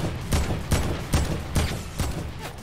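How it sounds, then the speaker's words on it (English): Rapid RPG rocket launches in Fortnite, five or six loud, sharp blasts fired about every half second in a steady rhythm, each with a brief whooshing tail. "I'm going to spam RPG grenade launches."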